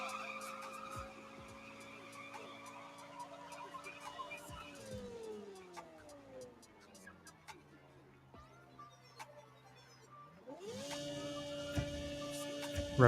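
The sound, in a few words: car engine revving in Nitro Nation racing video game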